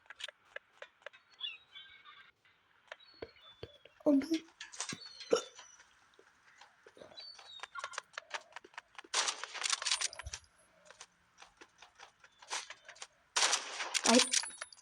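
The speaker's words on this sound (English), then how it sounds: "I hear shotguns" Shotgun fire in the Roblox game Rivals comes as several short, harsh bursts among busy game effects, with a voice talking over them.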